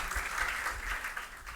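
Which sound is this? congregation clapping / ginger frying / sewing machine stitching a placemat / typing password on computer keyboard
congregation clapping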